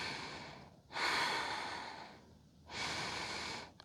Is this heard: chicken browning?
no